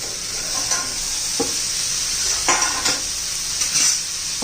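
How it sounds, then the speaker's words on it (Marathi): Tomatoes roasting in a pan give a constant close sizzle and hiss, broken by a few clinks and scrapes of stirring against the pan, with no talking. "चांगले छान असे टोमॅटो आपण भाजून घेणार आहोत."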